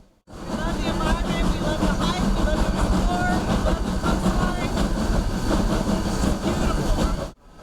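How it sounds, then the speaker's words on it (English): Passenger excursion train running at about 15 miles per hour on the line out of Fort Bragg through the redwood forest, giving a steady, continuous rumble with rail rattle throughout and no talking. "The train moves at 15 miles per hour, so people can enjoy the scenery both inside and out."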